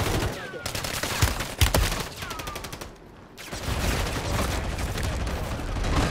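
Video game gunfire in an online multiplayer match, loud bursts of rapid automatic fire with single shots between, a short lull, then more sustained shooting.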